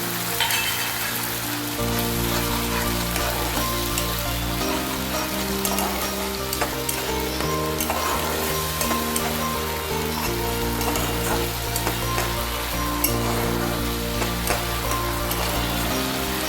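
Tomato paste for a Bengali fish curry fries and sputters in a pan with a dense, rain-like crackle while a spatula stirs through it, close and continuous over a low steady hum.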